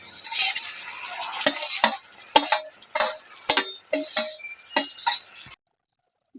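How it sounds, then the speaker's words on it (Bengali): Fried prawns, jackfruit and potato are stir-fried in a pan, with a steady sizzle under a run of sharp, rhythmic spatula scrapes and knocks. The sound then cuts off into near silence. "এবার চিংড়ি মাছ আর আমার ইঁচড় আলু ভালো করে কষিয়ে নেবো"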